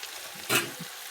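Mung puli pitha dropped into smoking-hot oil sizzles in a brief burst that flares up and quickly settles back to a quiet hiss.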